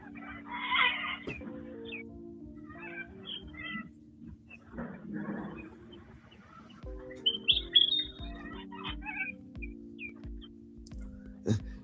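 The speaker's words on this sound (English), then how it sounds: "Not even so much bird watch now, it's just bird listen" Scattered early-morning Australian bird chirps and tweets come and go over a steady low electrical hum, fairly faint and intermittent, with no talking.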